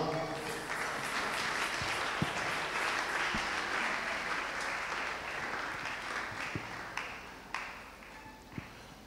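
A church congregation claps steadily in a dense, continuous wash of applause, moderately loud, with a few sharper isolated claps and some voices mixed in.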